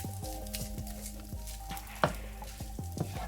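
Leftover rice crisping in hot oil in a pan, a steady close sizzle broken by repeated stirring scrapes and a sharp clack of a utensil about two-thirds through, with no talking.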